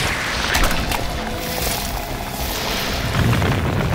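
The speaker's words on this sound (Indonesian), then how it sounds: "Leodo mengeluarkan lumpur hitam mematikan yang langsung terbakar dan meledak guys" Burning black mud exploding in an Ultraman Arc episode, a loud, sustained rumbling boom with crackling debris that rolls on for several seconds without a clear single blast.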